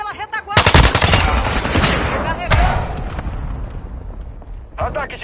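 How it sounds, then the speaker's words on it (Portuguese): Hostile mortar strike during a Call of Duty Modern Warfare 2 multiplayer match: loud rapid gunfire and heavy blasts crowd the whole stretch, with one sharp boom near the middle and a voice speaking over the din. "Ataque de morteiro hostil."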